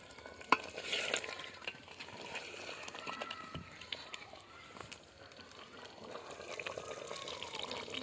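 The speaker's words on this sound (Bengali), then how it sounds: "একটু পানি দিয়েছি, একটু ভালো করে কষিয়ে নেড়ে চেড়ে নিচ্ছি।" A beef and potato curry being stirred in a pan with a little added water, giving soft scraping and bubbling under a low cooking hiss, with a sharp clink near the start and faint talk in the background.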